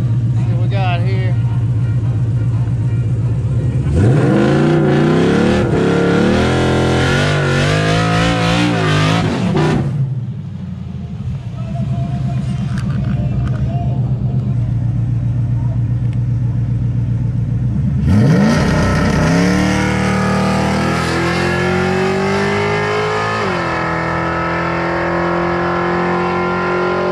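A Coyote-swapped Fox Body Mustang with a Powerglide and 9-inch rear revs hard at a drag strip, rising and falling in loud bursts with a quieter lull between runs.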